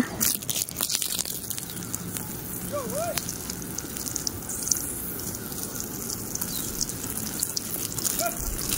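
Water is poured onto a maize field in a Lamjung, Nepal village, making a steady close splashing and crackling patter that lasts throughout.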